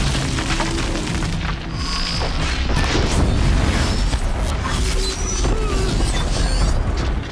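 Loud, dense gunfire in the video game Horizon Zero Dawn with heavy booming blasts, rattling almost continuously with no pauses.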